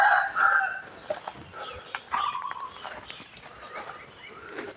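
Roosters and chickens crow and cluck amid scattered bird calls, with a busy rural farmyard background in Chae Hom, Lampang, Thailand, in the cool season, and a few sharp bursts up close.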